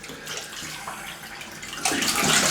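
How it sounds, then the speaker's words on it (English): Cold tap water runs into a sink as a face is rinsed after a shave with a Merkur 34C safety razor, a steady close splashing that grows louder and fuller near the end. "quick rinse with some cold water"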